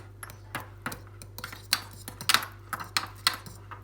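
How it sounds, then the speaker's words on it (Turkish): A metal fork scrapes and clinks against a bowl while mashing and stirring homemade baby bird food into a purée, with irregular close taps and scrapes and no talking. "Bunu bir çatal yardımıyla karıştırıyoruz."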